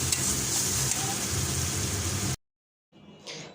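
Onion and dried shutki fish frying in a pan give a loud, steady broadband sizzle that cuts off abruptly, followed after a brief silence by a softer return of sizzling and stirring.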